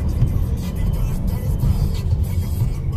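A 2018 Alfa Romeo Stelvio Sport rounds a curve at about 60 mph, giving a steady low engine and road drone with rushing wind and tire noise, continuous and close.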